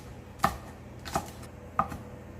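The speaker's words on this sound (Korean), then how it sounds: "청양 좀 다져주시고요." A knife minces Cheongyang chili pepper on a cutting board for curled mallow and marsh snail soup, giving three crisp, evenly spaced chops, close and clear against a quiet kitchen background.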